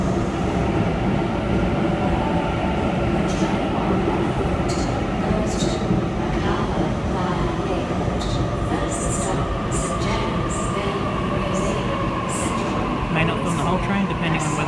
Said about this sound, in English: Macarthur via airport service, now departing platform 2